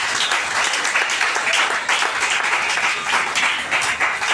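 A church congregation bursts into sustained applause, dense steady clapping from many hands that fills the space evenly for several seconds with no one speaking over it.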